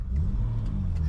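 The 202 engine of a 1981 Holden VC Commodore runs with a loud, steady low rumble that rises slightly as it revs.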